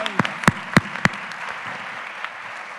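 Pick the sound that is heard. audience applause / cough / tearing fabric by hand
audience applause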